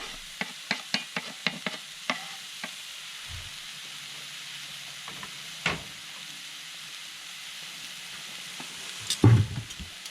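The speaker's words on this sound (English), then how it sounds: "chicken's already sizzling." Chicken crackles and hisses in a hot pan over a penny can stove under a steady sizzle, with clicks and scrapes of stirring, then a louder clatter near the end.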